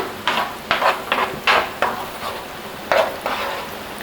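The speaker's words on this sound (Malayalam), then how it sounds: "ഇതിലേക്ക് നമ്മൾ നേരത്തെ അരച്ച് വെച്ച സവാളയും കൊച്ചുള്ളിയൊക്കെ അരച്ച പേസ്റ്റ് ഈ എണ്ണയിലേക്ക് ചേർക്കാം" A ground paste of onion and shallots sautéing in hot oil for a Kerala-style mutton curry, quiet sizzle broken by a series of scraping and tapping stirs from a spoon against the pan, close by.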